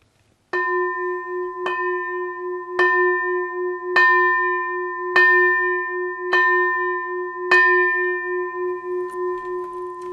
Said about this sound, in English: we end by ringing the bell of invincibility